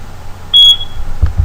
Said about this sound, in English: someone's alarm is ringing